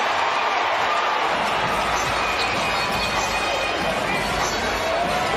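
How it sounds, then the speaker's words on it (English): An NBA basketball arena crowd roars after a made basket, a loud sustained wall of cheering and chatter that holds steady, with faint whistles or squeaks poking through. "listen to the crowd"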